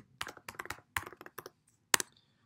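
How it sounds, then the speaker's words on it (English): Close, crisp typing on a new MacBook Pro laptop keyboard in quick irregular bursts of clicks, with a sharper louder keystroke near the end, no talking. "sorry if my keyboard is very loud"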